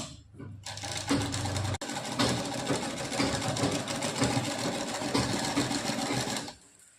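A sewing machine stitches a fall onto a saree, running in a loud, continuous mechanical whir with one brief break before resuming, then stopping near the end.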